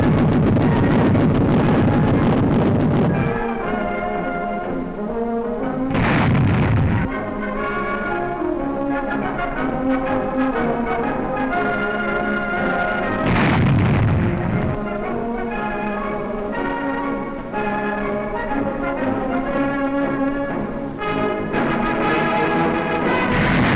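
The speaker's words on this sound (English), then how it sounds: "With an enemy in sight, the great vessel unlimbers her full armament." Naval guns aboard a Canadian frigate fire in 1945 wartime footage. Two heavy booming blasts, roughly seven seconds apart, cut through a continuous orchestral score.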